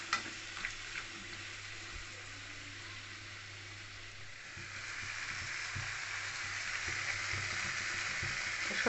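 Mustard paste being stirred into a soybean curry in a pan, a steady sizzle with scraping stirs throughout, a few clicks of the spoon early on, growing slightly louder in the second half, no talking.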